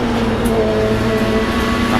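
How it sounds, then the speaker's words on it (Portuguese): WTCC race car engine at the 2008 Curitiba race, a steady droning engine tone with held pitch lines under trackside noise, heard throughout the clip. "Olha o barulho do motor do Rodrigues, ó."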